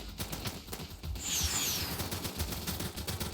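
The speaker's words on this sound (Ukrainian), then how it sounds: "Полетіли ракети. Бомба, ракета, пушка." Rockets, bombs and cannon fire in rapid succession in the Roblox game Jet Fighters, forming a dense, continuous barrage of blasts and bursts with a whooshing streak partway through.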